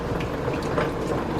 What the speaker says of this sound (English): Let that butter melt